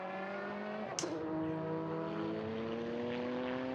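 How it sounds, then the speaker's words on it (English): Lola MG EX264 classic racing car in a race at Estoril, its engine droning with a strong tonal whine and shifting pitch as it passes on the track, a sharp transient near the start. "Car through in towards turn 4"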